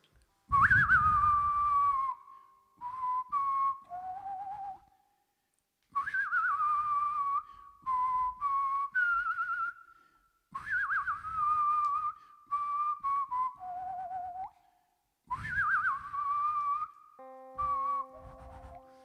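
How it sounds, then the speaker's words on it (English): Someone whistles a melody alone in short phrases with clear pauses between them, bright and close. "You want to whistle it before I start"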